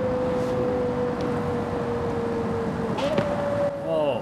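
A Forza Horizon 5 car engine drones at steady pitch, then drops off throttle with quick downshift blips and crackles; faint talk sits underneath.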